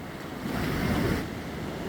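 Big waves surge and crash along a flooded seaside boulevard, a broad, continuous roar of surf with wind buffeting the microphone; no voices.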